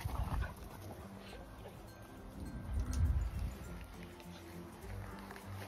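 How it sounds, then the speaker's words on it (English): Newly arrived rescue puppies barking and whimpering, faint and somewhat distant, with low rumbling noise and no clear speech over it. "those are the puppies barking"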